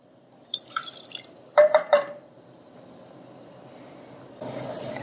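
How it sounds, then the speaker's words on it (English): Soy sauce is poured into a saucepan over medium-high heat, giving a few brief, close drips and splashes with light glassy clinks, followed by a low, steady background hiss. "And you'll add 1/2 cup of soy sauce."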